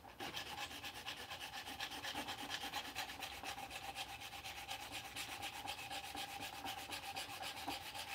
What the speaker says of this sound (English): I'm using a handsaw.